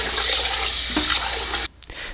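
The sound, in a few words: rinsing rice in water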